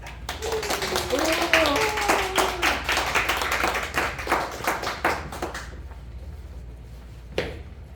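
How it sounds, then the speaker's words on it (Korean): Church congregation applauding to welcome a deaconess guest, dense clapping over a few seconds that thins out and stops, with a voice speaking over it and a lone clap near the end. "박수로 환영하겠습니다"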